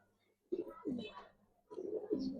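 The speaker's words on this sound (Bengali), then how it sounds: "তার ডাইরেক্ট ইম্পোর্টেড কবুতর" Silver Giribaz pigeons coo close by in two soft bursts of low, throaty rolling calls separated by a short pause.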